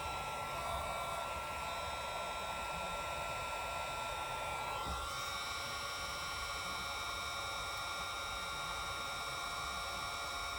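A heat gun blows hot air onto a dash decal in a 2021 Ford F350 truck, producing a steady, close, continuous whooshing hiss with a slight shift in tone midway, no speech.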